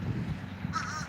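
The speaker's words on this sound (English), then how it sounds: "Oh, that's the crow calling." A single crow call rings out once near the end, a short harsh caw heard at a distance over low street ambience in Oyster Bay, New York.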